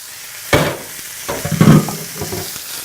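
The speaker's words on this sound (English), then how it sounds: "now I'm just going to check in the beef, so just put it all in there at once" Raw beef tipped all at once into a hot oiled pan for a pumpkin and cashew paleo curry bursts into a loud sizzle, followed by a continuous crackling fry with scraping stirs and a second swell of hissing.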